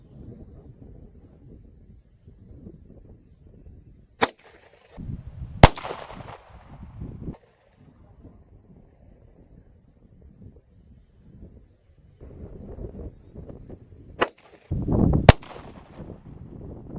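Pistol shots from a 9mm FN FNS 9C with a light fitted, fired at grenades outdoors: four sharp cracks in two pairs, about a second apart each, over steady wind noise with thumps after some hits.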